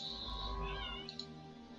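A domestic cat gives one faint, drawn-out meow with a rising and falling tone, alone in a quiet room.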